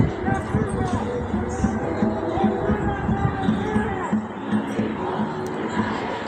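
A protest crowd gathers outside a building on Portland's South Waterfront, giving a steady murmur of many voices with scattered shouts and footfalls that hold at a moderate distance throughout.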